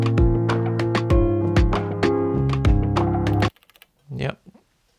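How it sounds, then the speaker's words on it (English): Digitakt loop of piano chords over a drum beat, with close, steady, rhythmic piano notes and drum hits that stop abruptly, followed by a few clicks and a brief low voice. "Some nice piano and drums."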